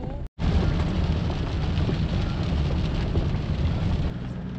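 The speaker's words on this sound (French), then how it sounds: "elle nous a rattrapé la pluie." Steady, heavy rain pouring down outdoors in Russia, a dense continuous wash of noise that cuts out briefly at the very start and then holds constant to the end.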